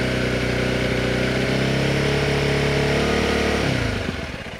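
Exhaust of a Honda CRF300L dirt bike held steady at 4,000 RPM gives a loud, even, buzzing drone that drops off near the end as the revs fall.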